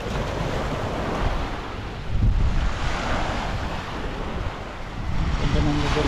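Ocean waves roll and wash along the shore at Mission Bay, Auckland, in a continuous loud surf hiss. Wind buffets the microphone, and swells rise around the middle and end.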